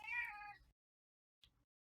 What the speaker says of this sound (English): I have a cat meowing, huh?